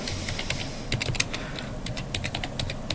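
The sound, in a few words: typing a command on a computer keyboard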